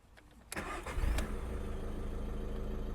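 A 2015 Skoda Rapid engine cranks briefly and catches, then settles into a steady idle, heard close with no talking.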